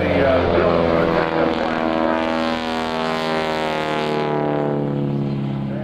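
A solo aerobatic airplane performing at the 2001 NAES Lakehurst airshow, its propeller engine droning loud and steady throughout with a slowly shifting pitch as it turns and passes nearby.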